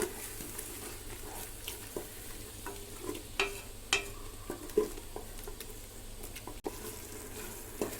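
Tomato juice and onions stirred and fried in a pan for a homemade chicken biryani, a steady low sizzle with scattered scraping stir strokes and small pops throughout.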